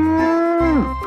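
A mother cow gives a single loud, close moo lasting about a second. The call holds steady, then its pitch drops at the end.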